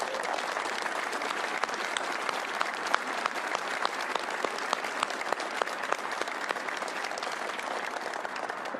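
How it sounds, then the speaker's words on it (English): Sustained audience applause at a NASA X-59 event, a dense crowd of hands clapping steadily at moderate distance for several seconds with a few sharper individual claps standing out. "I'd like to take a moment and ask that all of you give them a round of applause"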